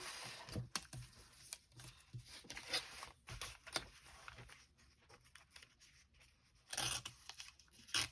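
Paper being trimmed, with a blank strip cut off a scrap of paper at a crafting table: a series of quiet, short snips and rustles in uneven rhythm, with a couple of louder crisp bursts near the end.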